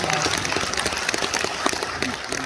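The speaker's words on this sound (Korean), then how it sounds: "우리 강기정 회장님, 시장님이 도와달라고 큰 박수 한번 보내주시기 바랍니다" Steady crowd applause at a memorial ceremony in Gwangju, South Korea, dense overlapping claps, fairly loud and continuous throughout, with some voices mixed in.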